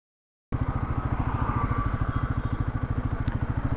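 A Royal Enfield Himalayan 450 putters along in first gear at about 10 km/h with the clutch released. The single-cylinder engine beats in a steady, close, rhythmic chug after a brief silence.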